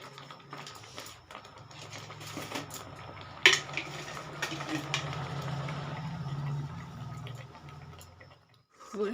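Cauliflower-leaf paste with salt and turmeric being stirred in a kadai, no oil, with soft scraping and clinking of the utensil against the pan and a sharper knock midway, under a steady low hum.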